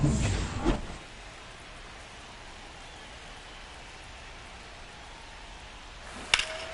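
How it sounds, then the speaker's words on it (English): Steady rain falls in an MLB 25 baseball game, a continuous even hiss of drops, with a louder burst at the start and a brief sharp accent near the end, with no talk over it. "This rain is not letting up."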